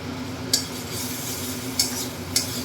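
Spices and chopped green chilli sautéing in a pan for egg dal tadka: a steady low sizzle with three sharp spoon scrapes spaced through it.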